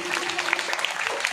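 Schoolchildren clap together at an Independence Day school function, a brief burst of moderately loud scattered applause with a voice mixed in.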